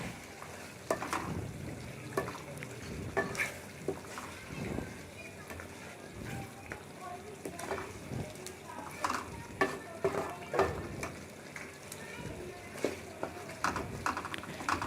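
Beef karahi is stirred and mixed in a pan, with repeated scraping and clattering strokes over a soft sizzle, moderately close; a voice speaks intermittently underneath.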